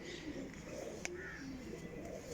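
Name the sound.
pigeon cooing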